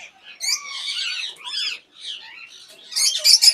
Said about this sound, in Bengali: আমির ভাই এতক্ষণ ধরে সুন্দর পাখিগুলো আপনার দেখাইছেন